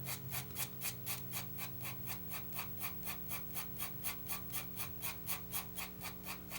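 Pencil strokes tapering across paper, a steady rhythm of soft scratchy swishes, about three or four per second, close and quiet with nothing else heard.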